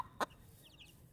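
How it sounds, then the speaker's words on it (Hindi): A startled hen gives one short, sharp cluck, followed by a few faint high chirps from chicks in an otherwise quiet setting. "देखो मुर्गी डर गई"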